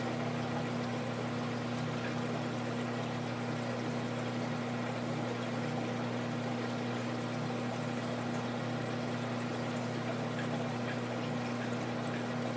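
Water pours steadily through an aquarium overflow driven by an Aqua Lifter pump, with a constant low pump hum beneath a soft, continuous rush of flowing water, close and unbroken.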